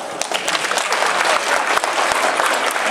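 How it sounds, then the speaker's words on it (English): Audience applause fills a convention Q&A hall at a Stockholm sci-fi fair, dense steady clapping from a crowd that holds its loudness for the full three seconds. "Round of applause for Darth Maul."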